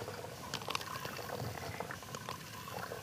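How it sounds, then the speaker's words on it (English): A hand pump filters lake water into Nalgene bottles at a campsite in the Boundary Waters Canoe Area. The water gurgles and splashes steadily and close by, with small bubbling trickles throughout. "now we're pumping water"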